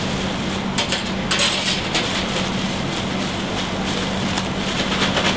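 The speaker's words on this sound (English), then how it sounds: "Then all we're going to do is we're going to mix this all together again." Noodles, thinly sliced red peppers and salad leaves with dressing being tossed together in a bowl give a steady wet rustling and clattering, with sharper clicks now and then and no voices.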